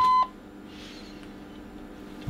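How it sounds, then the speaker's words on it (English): A 1 kHz alarm tone from a signal tracer on a Drake TR7 radio sounds as a short, clear, steady beep at the very start, then cuts off, leaving a quiet electronic hum. "And when the signal drops, for example, I, I simulate it with the passband shift, then I get an alarm."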